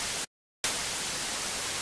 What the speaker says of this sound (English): Now we also have a noise generator.